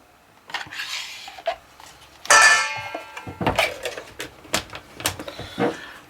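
A spoon stirs canned cream of mushroom soup and sour cream together in a bowl, making close, irregular scraping strokes with small clinks and pauses between them.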